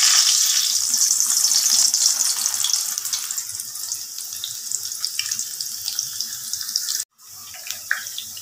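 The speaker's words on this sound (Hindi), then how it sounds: "अब मैं दाल को फ्राई करने लगी हूँ इस जाली के ऊपर के" Chana dal frying in hot oil in a wire mesh strainer, giving a steady broadband hiss and crackle that runs loud and continuous, briefly cutting out near the end before resuming.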